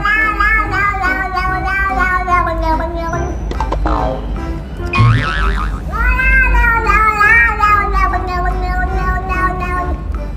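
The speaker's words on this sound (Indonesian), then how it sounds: "Sama kayak kucing ini sob, dia tuh lagi marah-marah karena nggak dibukain pintu." Angry orange cat meowing loudly in a long run of drawn-out, rising and falling wails and yowls, close to the mic with no pauses.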